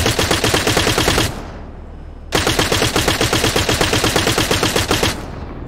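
Rapid automatic gunfire from the Arma 3 military shooter, two long sustained bursts of loud, evenly spaced shots broken by a short quiet gap, with no talking.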